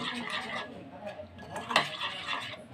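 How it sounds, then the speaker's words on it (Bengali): A spoon stirs and mixes ground spices into yogurt in a bowl, giving a continuous wet scraping and clinking against the dish with one sharper knock partway through. "সবগুলো একসঙ্গে ভালো করে একটু আগে মিশিয়ে নেব।"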